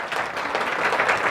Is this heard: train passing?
no